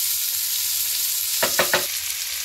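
Onions frying in oil for a tomato, onion and garlic chutney, a steady quiet sizzle under three quick scraping strokes of a spoon through the pan near the middle.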